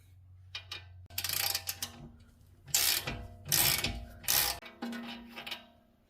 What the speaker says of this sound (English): Remove the large 21mm nut that holds the ball joint down into the hub.